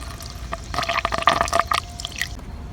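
Coolant poured into the radiator of a 2011 Honda CR-V during thermostat and radiator hose replacement: gurgling, splashing liquid with small squishy bubbles and drips, close by, rising in the middle then easing off.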